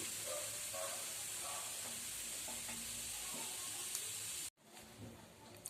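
Poha, flattened rice, frying in hot oil in a pan with a dense, even sizzle and occasional stirring clinks. It stops abruptly near the end, and quieter frying follows.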